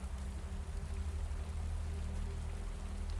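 Steady rain falling in sheets on dusty ground and roofs, a constant close hiss with a dense patter and low rumble throughout, no voices.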